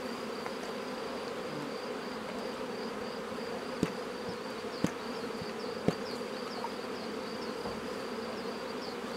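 Honeybees hum steadily inside an open hive between the frames, a dense close buzz with a few faint clicks over it and no one speaking.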